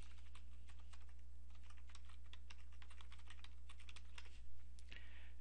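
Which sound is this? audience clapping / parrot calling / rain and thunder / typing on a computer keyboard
typing on a computer keyboard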